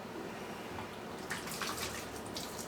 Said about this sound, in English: I'm going to grab the pot, drain it in the sink